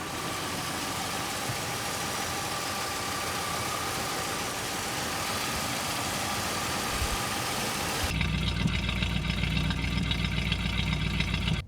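A 1964 AMC Rambler Classic engine idles with a steady hum and no talking; partway through the sound turns deeper and louder, as if heard from closer.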